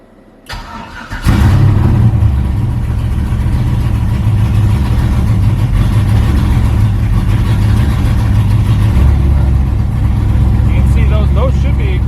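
An LS-swapped Chevrolet S10 drag truck cranks briefly, fires up with a sudden loud burst and settles into a rough, rumbling idle close by, running rich and steady.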